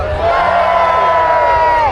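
An outdoor festival crowd at Jack in the Green in Hastings roars and whoops as sword dancers from the northeast of England begin, a dense, loud, near cheer sustained for about two seconds with a long rising-then-falling shout.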